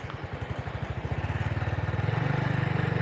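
A Honda Revo motorcycle with an overly sticky manual clutch runs up close, its engine a steady thumping pulse that quickens and grows louder over the few seconds, with no voices.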